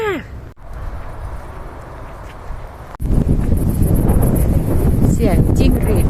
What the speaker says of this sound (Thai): สายลมที่พัดมาเย็นมาก